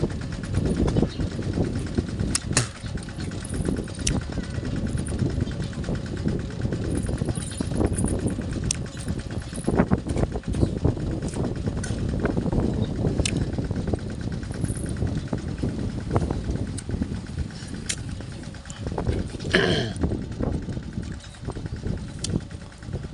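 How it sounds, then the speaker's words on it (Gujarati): A tractor runs steadily through a groundnut field, its engine a continuous rough rumble heard outdoors from middle distance, with scattered clatter and a few faint higher noises. "હમણાં એક જ ધારું ટ્રેક્ટર હાલ્યું જાય છે"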